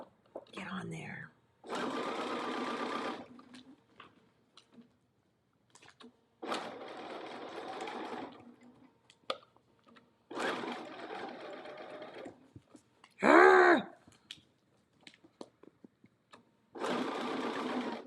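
A sewing machine stitches a paper-pieced New York Beauty quilt block in several short, buzzing bursts of a few seconds each, close up, separated by pauses where someone talks quietly.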